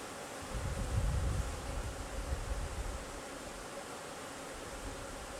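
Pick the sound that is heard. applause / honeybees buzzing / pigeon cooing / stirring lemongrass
honeybees buzzing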